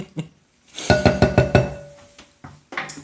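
Black pepper stirred into a green bean casserole mixture: a quick run of five or six sharp clinks and knocks of a utensil against the bowl, close and loud, with a couple of softer taps after a pause.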